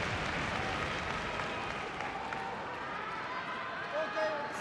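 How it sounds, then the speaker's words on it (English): A sold-out wrestling crowd in Osaka roaring and applauding after a kick-out, a dense sustained wall of cheers heard at a distance, with commentary talking over it. "Thunderous reaction from a sold-out crowd here in Osaka"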